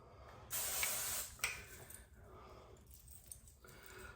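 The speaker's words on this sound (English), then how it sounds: "spray underneath to bump it up a little bit" Hairspray from an aerosol can sprayed underneath the hair to lift it, one steady hiss of about three-quarters of a second followed by a shorter burst, close and clear.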